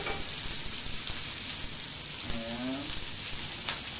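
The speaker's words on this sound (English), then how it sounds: "This skillet's getting hot. We're going to add a little bit of our oil, just a little bit to the bottom here." Oil heating in a hot skillet gives a steady, close, hissing sizzle that runs unbroken from start to finish, with one brief spoken word.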